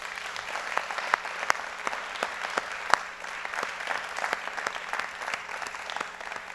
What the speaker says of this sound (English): I'd like to give a round of applause to Molly Beckley.